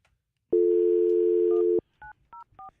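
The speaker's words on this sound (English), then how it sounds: "Hey, Fester, I'm going to dial them up" A telephone line plays a steady dial tone for over a second, followed by three short, evenly spaced DTMF keypad beeps as a number is dialed, clear and close.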